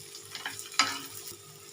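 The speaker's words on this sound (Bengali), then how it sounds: "ছোটো ছোটো টুকরো করে কেটে এটাকে আগে ভেজে নিচ্ছি।" Small cut potato pieces frying in oil with cumin seeds, a soft steady sizzle with a sharper stir or clatter near the middle, close and fairly quiet, with no talk.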